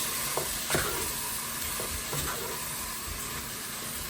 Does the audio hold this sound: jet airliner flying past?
no